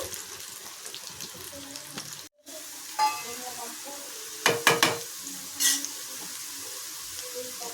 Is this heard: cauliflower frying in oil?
yes